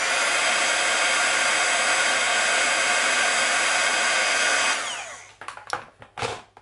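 A heat tool blows hot air onto a craft card in a steady, loud, broadband whoosh lasting several seconds, then cuts off and leaves a few short bumps and rustles.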